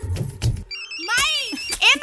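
A short electronic phone ring with warbling tones, between bursts of talking voices; fairly close and clear.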